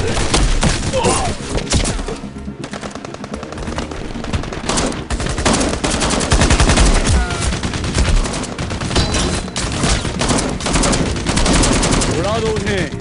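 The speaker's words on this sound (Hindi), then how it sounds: "फायर! फायर! गोली खत्म हो गई।" Machine gun fire in a war film: loud, rapid bursts of automatic shots with booming thuds, rattling almost without pause, with shouting voices mixed in at times.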